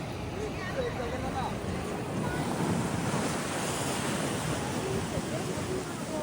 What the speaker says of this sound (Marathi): समुद्र पूर्ण खवल है